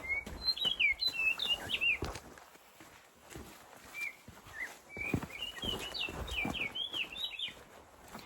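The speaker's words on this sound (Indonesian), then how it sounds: "Ada suara burung." Bright bird chirps and short trills repeat in bursts in a mountain forest on Mount Merbabu, Indonesia, with hiking footsteps crunching along the trail beneath them in a quiet outdoor setting.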